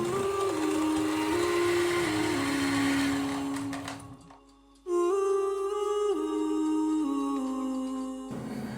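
An electric mixer whirs on high speed, beating eggs with granulated sugar, a steady motor drone that drops out briefly and then returns in a higher, cleaner whine, close and alone.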